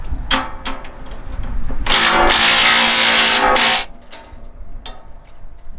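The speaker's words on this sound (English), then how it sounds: "Now we can use our impact on this inside one." An impact wrench loosening a nut on the inside of a MacDon FD2 series header during setup: a loud two-second burst of rattling hammering, with lighter metallic taps and clicks before and after.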